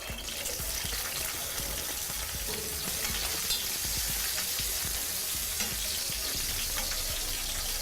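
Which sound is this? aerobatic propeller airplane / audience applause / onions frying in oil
onions frying in oil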